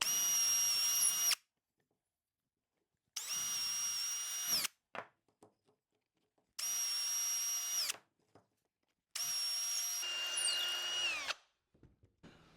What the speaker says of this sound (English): Drilling all the way through will make these easier to install.